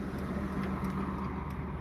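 Steady road traffic heard from inside a moving vehicle while driving among school buses, a continuous low engine and tire rumble with no distinct events, fairly loud throughout.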